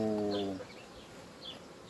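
Honeybees buzzing close by at an open beehive during syrup feeding, a steady insect drone that is strongest at the start and then softens into a quieter hum.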